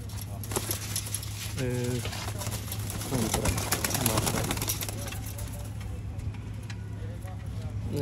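Sialkoti pigeons give soft, low cooing calls in the background while people talk close by throughout, with a faint steady hum underneath.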